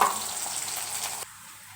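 Onions and chillies frying in a pan, a bright continuous sizzle that cuts off abruptly near the end, leaving faint quiet, close by with no talking.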